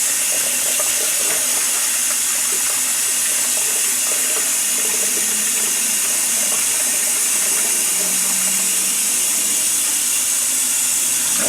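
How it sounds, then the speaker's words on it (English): Tap water runs steadily into a bowl as rice is rinsed, a continuous close splashing hiss with small shifts in the flow and no talking. "I wash it till the water comes out clear."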